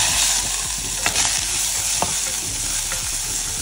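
Onion fries with cumin seeds in oil in a pan, a loud, close, continuous sizzle broken by a few scraping stirs of a utensil.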